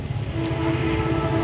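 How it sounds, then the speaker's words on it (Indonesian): An approaching Argo Wilis passenger train in Indonesia makes a low, steady rumble that fills the clip, a continuous heavy rolling drone with no voices. "Sudah terdengar suara gemuruh kereta dari sana."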